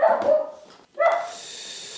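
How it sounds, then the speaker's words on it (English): A dog barks twice in quick succession, close by and fairly loud, with a short gap between the two barks. "my dog is currently barking"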